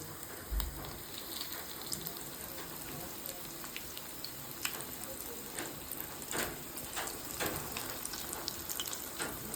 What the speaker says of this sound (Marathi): त्याला असे शालो फ्राय करायचं आहे।